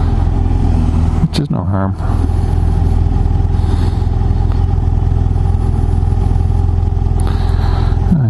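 A motorcycle engine hums steadily and loudly while being ridden cautiously along countryside roads, with someone talking over the drone and a brief clattering bump partway through.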